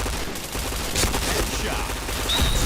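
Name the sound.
gunshots in a mobile shooter video game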